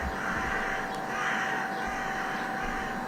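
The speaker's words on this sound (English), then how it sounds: "Bird, strange bird movement and sounds, guys, on camera." Crows caw in the early morning in Kyiv, Ukraine, repeated hoarse calls at a distance over a constant outdoor city hum, with no voices.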